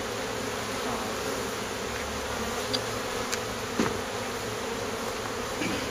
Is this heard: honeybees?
yes